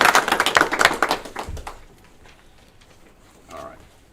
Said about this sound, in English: if we could give a round of applause to all of our board members